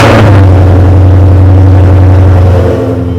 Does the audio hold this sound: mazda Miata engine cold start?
yes